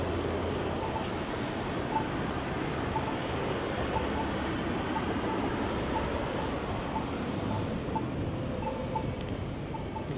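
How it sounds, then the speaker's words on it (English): Strong, cold wind gusts roar steadily against the microphone on a city street in midtown Toronto, a continuous broadband rush lasting the whole stretch with faint traffic beneath. "This wind is no joke."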